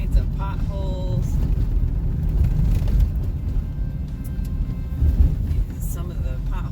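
A car drives a potholed road in snow and rain, its steady low rumble joined by occasional thumps and rattles from the bumps, with a person speaking over it.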